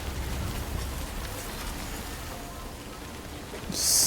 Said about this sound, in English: Still raining, and I'm surprised it hasn't flooded here.